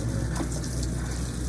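Running water from a hose gushes in a steady, moderately loud wash that continues unbroken, with no voices.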